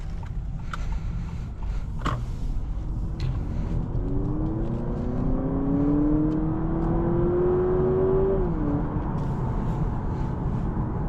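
A 2023 Honda Accord Hybrid Touring accelerates from inside the cabin, where a faint whine climbs steadily in pitch over a constant low road rumble before dropping off, with no talking.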